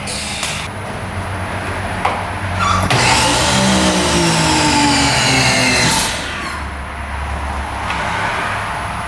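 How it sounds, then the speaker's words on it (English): Pump and pressure washer on a mobile detailing trailer starting up, a loud steady motor drone with a burst of harsh hissing spray in the middle that cuts off, then the motor runs on alone. "let's try plugging in pump and pressure washer just to test everything out"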